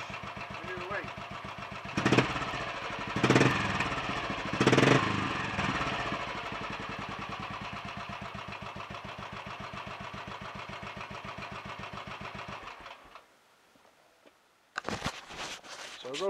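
Royal Enfield 500 Red Baron single-cylinder motorcycle with retarded inlet cam timing, running with a steady thumping idle and a few louder bursts, then briefly cutting out before firing again.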